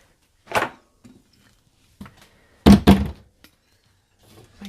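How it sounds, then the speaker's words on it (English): A kitchen cupboard door that won't stay shut thuds during watermelon jelly canning: one dull knock, a pause, then two close, louder thumps, with no talking. "My cupboard door doesn't want to stay closed."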